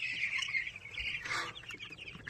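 Chickens on a poultry farm, a close, steady chorus of clucking and higher calls at moderate loudness with no talking over it.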